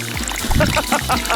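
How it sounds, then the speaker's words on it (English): A LEGO piston pump pushes water upward in a tank, with a mechanical thumping motor rhythm and splashing, gurgling water pulses repeating a few times close by. "The piston is pushing the water up. Haha, water is being pumped up."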